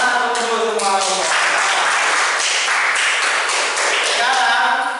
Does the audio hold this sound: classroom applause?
yes